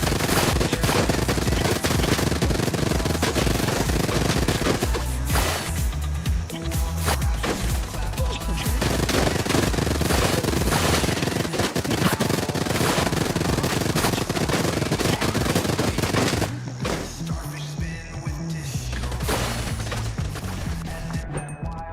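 Guns fire at fish in a video game in dense, rapid, machine-gun-like bursts that continue almost nonstop, with brief lulls and heavy impacts throughout.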